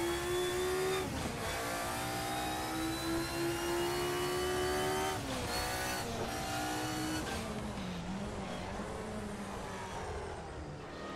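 A race car engine in the Assetto Corsa racing game revs hard and climbs through gears on a track, a loud, continuous synthetic-sounding drone with rising and falling pitch and brief shifts between.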